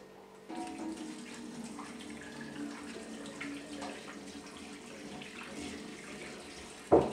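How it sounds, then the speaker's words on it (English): An apple is washed under a running tap, giving a steady, moderate stream of water splashing, with a sharper knock or clatter near the end. "We wash our apple."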